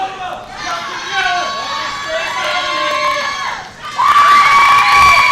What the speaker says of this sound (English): You can hear the count from the crowd.